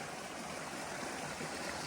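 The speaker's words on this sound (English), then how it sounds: "Nice little waterfall area." A small waterfall rushes in a steady, even hiss of splashing water, nearby and unbroken.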